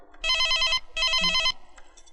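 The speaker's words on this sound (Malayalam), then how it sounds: "Teacher teacher the phone." A telephone rings in a teacher's classroom in a Malayalam film scene, giving two loud, near, electronic ring bursts separated by a short pause.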